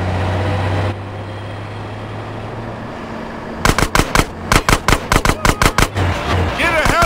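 Gunfire in GTA San Andreas during a vehicle chase: after a low engine drone, a rapid burst of sharp repeated shots crackles loudly, about a dozen rounds in uneven rhythm, followed by a short skid-like squeal.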